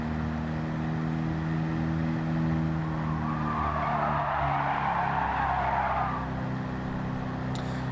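A slow, roughly 30 horsepower car slides through a corner at the Nürburgring in Gran Turismo 7, its tires skidding in a long, loud hiss over a steady, droning engine.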